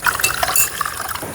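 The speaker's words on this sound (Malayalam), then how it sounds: "കുറച്ച് വെള്ളം കൂടി ഒഴിക്കണം." Water splashes and gurgles as it is poured into a pan of sardine curry, a short continuous liquid pour heard close up without talk.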